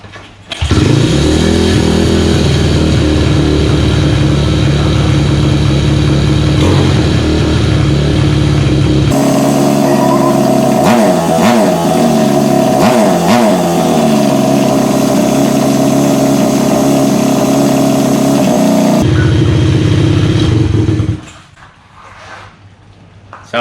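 A 2004 Kawasaki KLX110 dirt bike with the choke on runs loud and steady close by, its idle shifting as the throttle is blipped through the middle, then cutting out abruptly near the end.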